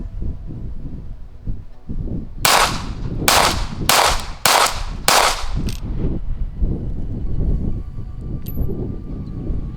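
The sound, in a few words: Cosaint COS21 pistol firing with Staccato magazine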